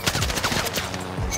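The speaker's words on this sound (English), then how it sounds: "There's people shooting at us." Rapid automatic gunfire in an online shooter video game, a dense, steady burst of loud shots lasting the whole moment with no clear pauses.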